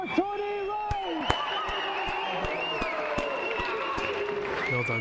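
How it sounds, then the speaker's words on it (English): A television game-show studio audience applauds a winning contestant, a steady wash of clapping mixed with music and a host's voice over the top. "And a round of applause again for Tony Wright."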